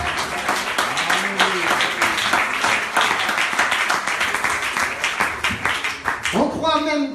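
Congregation applauding the Lord at a church fellowship service in Lyon, France, with steady clapping running throughout under a voice talking, and singing or an instrument rising near the end.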